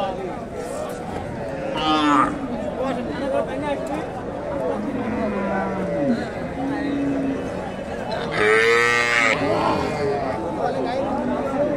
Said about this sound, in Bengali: এখানে একটা গাভী দেখেন, দেশি গাভী। আর এই যে বাচ্চাটা বকনা বাচ্চা